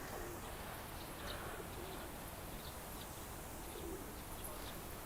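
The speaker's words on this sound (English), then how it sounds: "Pigeons, lots of birds." Pigeons coo softly at the base of Fukuoka Tower amid a steady outdoor hum, a few faint calls rising over the background with no clear speech.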